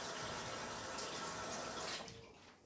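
Water runs from a tap in a steady, fairly faint hiss that stops abruptly near the end.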